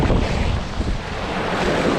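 Wind and waves at sea buffet a fishing boat, a dense, steady roar of gusting wind across the microphone with surging water beneath, continuous and loud, with no voices.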